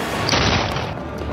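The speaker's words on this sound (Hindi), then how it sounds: "उसी वक्त गोलियों की आवाज आती है।" A dense burst of gunfire, loud and close, a rapid cluster of shots blurring into a roaring crack with no voices.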